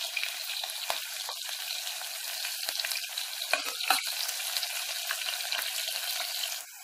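Onion and green chili frying in a pan with a pinch of asafoetida, a constant close hiss and crackle broken by a few stirring scrapes, then cutting off near the end.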